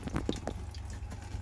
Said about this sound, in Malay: Kita dengar, kita dah start dengar air.